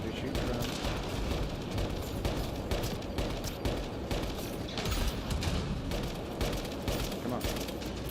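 Dense, continuous gunfire and explosions from the video game Mass Effect: Andromeda fill the mix in a loud, busy combat din with no pauses.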